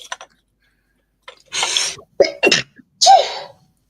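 One sharp sneeze with a short inhale before it, close and loud, followed by brief breathy sounds in a quiet room.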